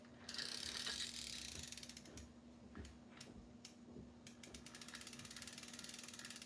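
Gear mechanism of an old Penn Delmar fishing reel spinning, a fine continuous ratcheting tick with a few sharper clicks and knocks, close and fairly quiet with a steady low hum underneath.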